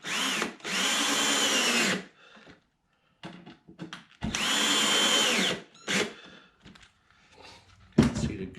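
A power drill drives screws into a wooden ladder shelf in bursts: two long, loud whirring runs, then shorter bursts and a final quick spin, with quiet handling clatter between them.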